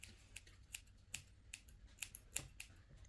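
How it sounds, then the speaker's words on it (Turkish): Scissors snip the hair tips during a home haircut, giving a quiet series of crisp, irregular clicks close by, with no talk over them. "Şöyle de uçlarını tırtık tık yapalım da makas izi belli olmasın."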